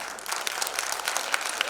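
A brief burst of audience applause at the grand finale of a singing competition, many hands clapping steadily and fairly loudly.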